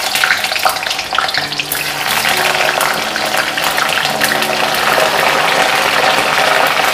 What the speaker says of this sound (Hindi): कुंदरू ऐड करते हैं, फ्राई कर लेते हैं